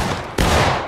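Musket volley from Civil War reenactors at Antietam near a corn crib, a sudden loud burst of blended shots about midway that rings on in a dense rumble with no pause.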